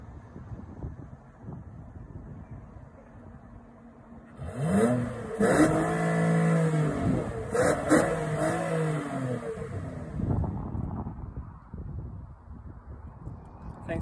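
A 2017 Nissan Quest minivan recorded from outside as its engine starts and revs, a rising and falling engine note for several seconds amid wind noise, with faint talk before and after.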